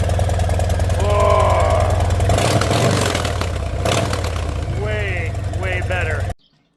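Harley motorcycle engine fitted with shorty mufflers starts up and idles with a loud, steady low rumble, a couple of sharp blips of throttle midway, then cuts off abruptly at the end.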